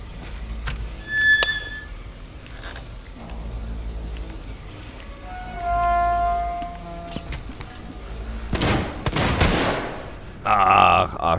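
Gunfire in the Alien: Isolation video game erupts as a short loud burst of shots near the end, rising above quieter rumbling game ambience and mechanical tones.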